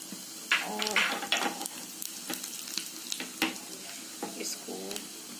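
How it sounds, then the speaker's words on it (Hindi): Soft sizzling of cumin seeds frying in hot ghee, with intermittent stirring and scraping clicks from a utensil in a pan, close by. "इसमें हम जीरा का तड़का लगाएंगे"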